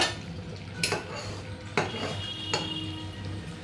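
Metal lid lifted off a cooking pot of spicy chicken wings, neck and tengri curry on a low gas flame, giving three sharp clinks spaced about a second apart over faint background hiss.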